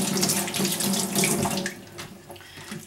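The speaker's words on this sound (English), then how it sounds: "Let's wash our hands." Tap water runs steadily into a kitchen sink during handwashing, a close, continuous rushing splash with no voices.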